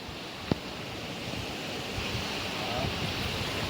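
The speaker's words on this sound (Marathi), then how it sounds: "या झाडाच्या बुडातून पाणी वाहते" Water runs continuously out from the base of a tree at a forest Mahadev shrine, a soft, steady wash of flowing water with a single sharp tap early on.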